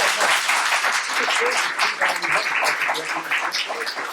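An audience in a grange hall applauds after a folk song, a dense, steady wash of clapping that holds at an even level the whole time.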